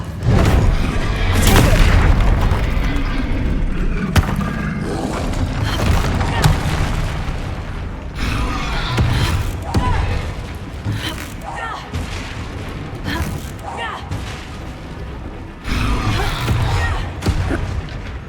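Spell explosions and fiery blasts burst repeatedly in Hogwarts Legacy combat against a troll, loud booming thuds in uneven bursts through the whole stretch, with a player's voice talking over them.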